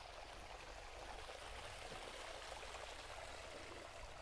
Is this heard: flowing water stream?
yes